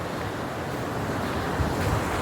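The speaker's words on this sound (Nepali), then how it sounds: "खोला यता छ्याङछ्याङ गर्दैछ साथीहरू।" River water rushes and splashes beside farm fields, a steady, fairly loud broadband wash with wind noise on the microphone and no talking.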